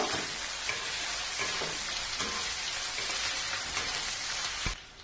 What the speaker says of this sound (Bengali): যে আদা রসুন বাটাটা বেটে রেখেছিলাম সেটা দিয়ে দিচ্ছি আদা রসুনের কাঁচা গন্ধটা যাওয়া পর্যন্ত এটাকে একটু ভালো করে মিশিয়ে নেব